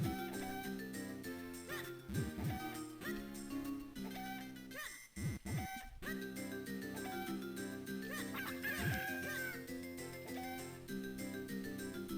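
Chickens clucking in the video game The Legend of Zelda: The Minish Cap, game sound effects layered over a steady, busy backing music track that runs the full length.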